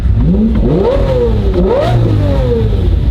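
A car engine revs up and down repeatedly at a large car meet during SEMA week, loud and close with rising and falling pitch sweeps, no talking over it.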